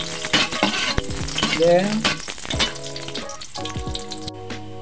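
Onions stirred and fried in a pan for chicken adobo, with steady sizzling and spatula scrapes running throughout under prominent music.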